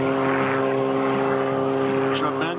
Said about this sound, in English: hovering the extra 300S high above us just like a helicopter